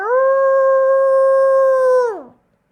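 A person imitates a wolf howl, a single long, steady, tonal note held for about two seconds before sliding down and trailing off, loud and close.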